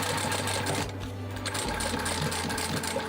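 A sewing machine runs steadily while top stitching around a fabric shoulder pad strap on a floral dino water bottle bag, a close continuous motor hum with a brief dip in the middle before it picks up again.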